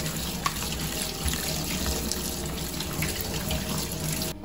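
Kitchen tap running steadily while boiled pasta is rinsed, a continuous close rush of water splashing into a sink that stays even throughout.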